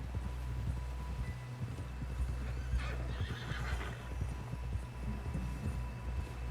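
A horse in the Western video game Red Dead Redemption 2 clops along with steady hoofbeats and whinnies, close and clear over a low, constant background hum.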